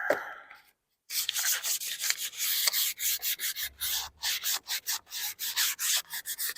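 A wooden coffee table top is hand-sanded for a general scuff coat, with a steady run of short, close rubbing strokes in a quick, uneven rhythm after a brief pause. No talking.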